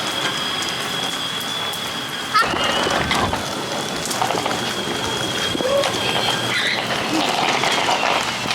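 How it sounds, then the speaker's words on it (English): Rain falling steadily outdoors, a constant close hiss with scattered drops pattering on surfaces, plus a sharp knock partway through and faint chirps in the background. "it's raining now"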